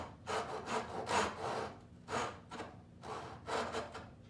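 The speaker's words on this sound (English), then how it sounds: "Now, I got my dovetail saw." A rip-filed dovetail saw cuts wood trim in a rhythmic series of close back-and-forth rasping strokes, with brief pauses between groups of strokes.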